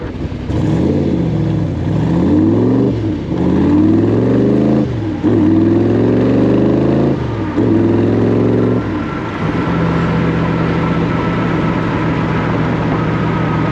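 A 1965 Shelby Cobra 427 replica by Superformance, 585 horsepower, revs repeatedly through side pipes, several rising snarls in sequence, then settles into a loud, burbling idle. Close and powerful, with no talking.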